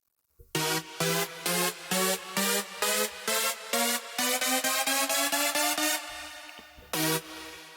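A psytrance chord stab in FL Studio repeats in rhythmic, evenly spaced hits, pitching steadily upward across the build until the pattern stops abruptly and one last stab sounds, all without talk.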